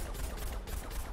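Gunfire striking a wall in the video game Plants vs. Zombies: Garden Warfare 2, on the Wall-nut Hills map: a rapid, continuous stream of soft, fairly quiet shots with steady rhythm and no pauses.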